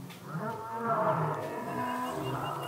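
Lion at a sanctuary in South Africa giving a low, sustained moaning roar lasting a few seconds, moderately distant and steady, with no talk over it.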